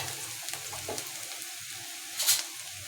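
Ginger and garlic fry in a pan of softened ingredients for egg rice, giving a steady soft sizzle with light stirring scrapes and a brief louder hiss near the end.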